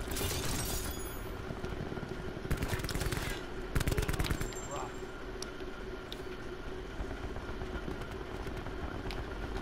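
Gunfire in Call of Duty Black Ops 4, with sharp bursts of rapid shots at the start and again around the middle, set against a steady rumbling game background with scattered single cracks.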